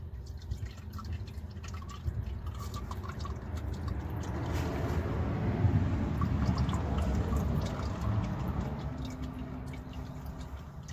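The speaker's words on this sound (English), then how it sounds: "Just slowly unscrew that and let your oil drain out of your filter." Engine oil draining from an unscrewed oil filter on a Chevy Silverado, a steady trickling and dripping liquid flow that swells gradually and continues without pause, moderately close.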